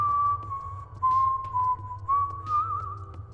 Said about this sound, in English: completely silent save for Bender's whistling